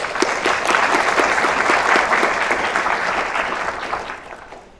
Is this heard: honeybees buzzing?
no